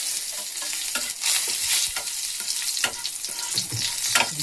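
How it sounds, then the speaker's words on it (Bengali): Nigella seeds and a dried red chili crackle and sizzle in hot oil, a steady loud hiss with sharp pops and a few stirring scrapes throughout, with no voices. "এখন তেলের মধ্যে আমি দিয়ে দেব একটু কালো জিরে, একটা শুকনো লঙ্কা দিলাম"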